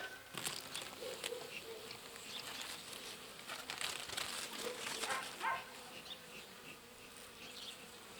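Steady buzzing of many honeybees around an Alpine hive in spring, close and continuous, with faint rustling and crinkling underneath.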